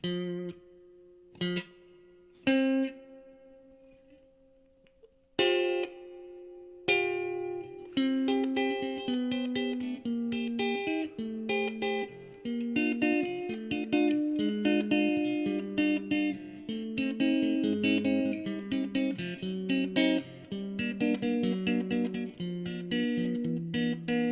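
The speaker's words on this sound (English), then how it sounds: "But I thought I would try out the reverb real quick." An electric guitar through a Monoprice 40-watt amp's reverb plays a few single plucked notes, then a strummed passage, each note trailing into a reverberant wash.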